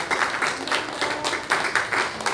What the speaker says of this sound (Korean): 우리 1구역의 박수로 감사합니다